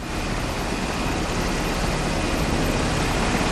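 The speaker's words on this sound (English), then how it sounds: "a National Guard helicopter has just landed at their base of operations right here beside us" National Guard helicopter landing nearby at a hurricane relief base after Katrina in 2005, a loud, steady, broadband rotor and engine roar that fills the whole clip with no pauses.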